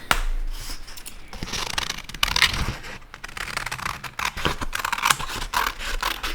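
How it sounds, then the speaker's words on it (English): Scissors cutting out a paper worksheet for a school weather-and-climate project, with close crunching snips and rustling paper in an uneven rhythm, fairly loud and without talking. "So we're going to cut that out."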